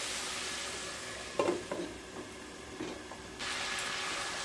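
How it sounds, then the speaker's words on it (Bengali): Spices sautéed and stirred in a pan on low to medium heat for Bengali sorsha pabda, a steady soft sizzle with a few scraping stirs and a brighter hiss rising toward the end, no voices. "মশলাগুলোকে লো টু মিডিয়াম স্টিমে খুব ভালোভাবে কষিয়ে নিতে হবে"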